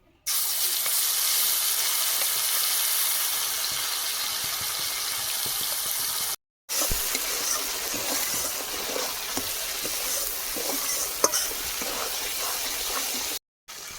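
Spices fry in the oil left from frying rohu fish, a continuous steady hiss and sizzle with scattered small pops, briefly interrupted by short gaps.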